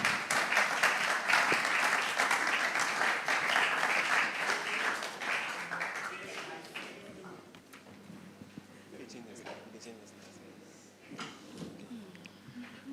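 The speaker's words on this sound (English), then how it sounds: "Let's clap for them as they join us on stage." Audience applause at a national investment quiz competition as a school team takes the stage, loud sustained clapping for several seconds that fades into quieter room noise with a few scattered claps.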